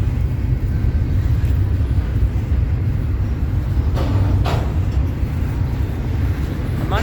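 A CSX intermodal freight train passes at Cumberland in a loud, continuous rumble and roar of rolling cars, close by and steady throughout.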